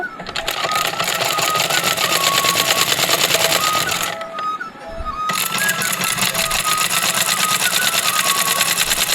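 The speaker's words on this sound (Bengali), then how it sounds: "এই যে দেখো এইভাবে আমি দুটা মানে সাইড এইভাবে সিলিয়ে নেব" Sewing machine stitching the side seams of palazzo pants, a close, steady rapid mechanical whir that stops briefly midway, then resumes at the same pace.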